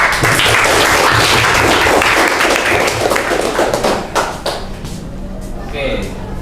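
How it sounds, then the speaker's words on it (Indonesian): Classroom applause from a class of students after a group presentation, loud, dense clapping that fades toward the end as a voice speaks. "Oke, beri tepuk tangan."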